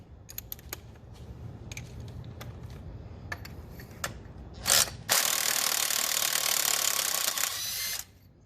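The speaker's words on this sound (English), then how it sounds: "we're going to take the spark plugs out now" Ratchet and power-driver work on a 1997-2001 Honda Accord engine while the spark plugs are removed: scattered clicks and short taps, then a loud continuous whirring spin for about three seconds before it stops.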